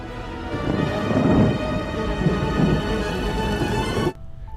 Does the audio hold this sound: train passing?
no